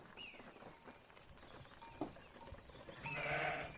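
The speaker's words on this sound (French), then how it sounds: "c'est le vieux berger avec ses moutons" A flock of sheep with an old shepherd in open countryside is heard as faint, distant bleating, with clip-clop hooves and a louder bleat toward the end.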